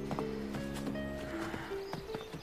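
A saddled, riderless horse's hooves clop in an uneven rhythm nearby, with faint tonal sounds in the background.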